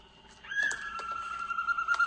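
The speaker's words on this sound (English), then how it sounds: "This is the broadbill." Broadbill bird of an Asian rainforest gives a clear, high whistled call with sliding tones and short repeated notes, sounding close and fairly loud over faint background hiss.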